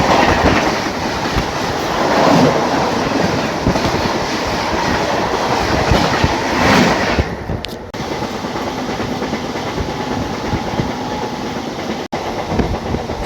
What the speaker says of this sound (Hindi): दोस्तों सामने से आ रही है अर्चना सुपरफास्ट एक्सप्रेस